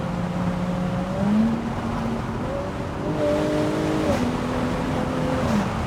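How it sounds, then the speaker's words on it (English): A Jaguar F-Type in manual mode steps down through its gears, the engine note jumping upward with each downshift in a steady, continuous drone from inside the car. "I'm just going to swap it in manual and I'm just going to drop a couple of the gears."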